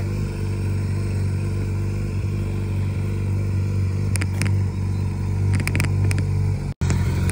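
Porsche 991 GT3 RS sports car on a street in Gerardmer, its steady loud engine rumble filling the scene, with a few brief sharp higher bursts toward the end.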